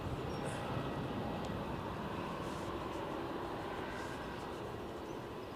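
A Logan Air plane takes off at Edinburgh Airport, a steady, distant broadband engine rumble heard alone without voices and fading slightly toward the end.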